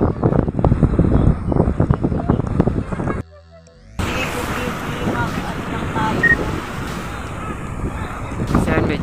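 Rough sea waves churn and slosh around a boat near Burias Island, loud and continuous under heavy wind buffeting on the microphone, broken by a brief quiet dropout.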